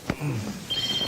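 A telephone starts ringing with a steady, high electronic tone partway through, after a brief voice and some low background noise.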